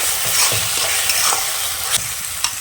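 Loud, steady sizzling of crushed garlic and chili frying in hot oil in a wok, with occasional scraping and stirring clicks against the pan.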